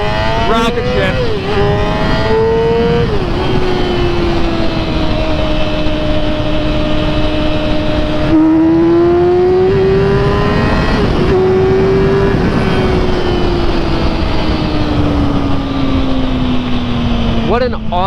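A 2014 Yamaha R6 sportbike engine pulls hard and loud while ridden, its pitch climbing, dipping and rising again through gear changes over a constant wind roar, with talking mixed in.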